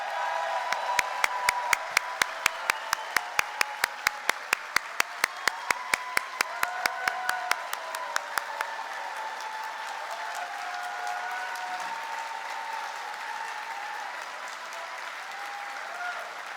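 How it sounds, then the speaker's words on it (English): Sustained live audience applause for teaching award recipients at an awards show, steady and full throughout, with sharper individual claps standing out near the start before settling into a dense, even roar. "give you the chance to give them a very well-deserved live round of applause"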